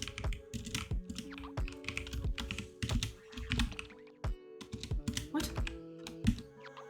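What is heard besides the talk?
typing on a computer keyboard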